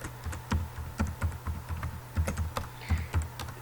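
Rapid typing of an article title on a computer keyboard, with quick, irregular clicks of keys close to the microphone and no voices.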